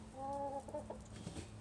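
Domestic chickens cluck softly at a distance, a few drawn-out tonal calls followed by shorter, scattered clucks over a quiet background with no talking.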